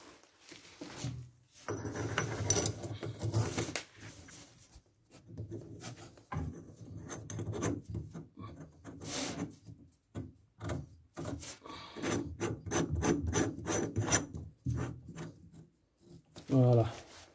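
A threaded pipe fitting being tightened by hand turns easily, giving dry rubbing and creaking bursts and a run of small ticking clicks, with someone speaking French over much of it.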